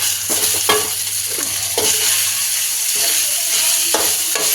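Rice is stirred and mixed in a frying pan for a home breakfast, a loud close sizzle running throughout with sharp spatula scrapes and clacks every second or so.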